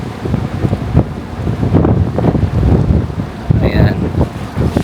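Strong wind buffets the microphone in heavy gusts on a Maldives island resort near Malé, with big surf rumbling underneath and a brief voice near the end.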